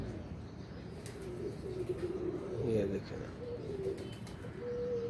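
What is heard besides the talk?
pigeons cooing, several pigeons together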